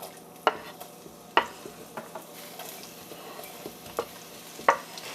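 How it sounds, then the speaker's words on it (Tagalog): Onions sweating in olive oil in a pan, with a soft steady sizzle under several sharp stirring clacks of a utensil against the pan, spaced irregularly and close up. "We'll sweat our onions."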